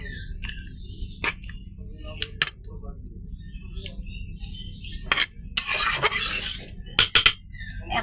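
Butter fish goes into a hot cooking pan: light clinks of utensils on cookware, then a brief hissing burst of sizzle, with a voice talking quietly in the background.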